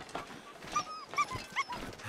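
A dog in the video game The Long Dark gives several short, high whimpering yips in quick succession, faint and somewhat distant over a rough, noisy background, with no talk.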